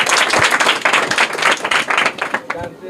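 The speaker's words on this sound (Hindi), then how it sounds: "जोरदार तालियां।" Audience clapping for a correct answer at a Bihar quiz gathering, a dense burst of hand claps running steadily throughout with voices mixed in underneath.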